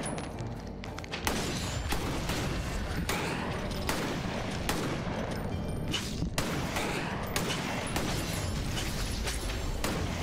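Sustained gunfire in the co-op action game Victor Vran: a dense, continuous stream of rapid shots and thuds fills the whole stretch, loud and close, with game effects layered underneath.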